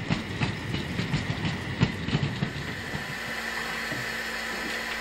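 Narrow-gauge steam locomotive 99-4511 hauls a freight train in light rain, with a steady hissing rumble and rhythmic clickety-clack of wheels at moderate distance, the beats thinning out toward the end.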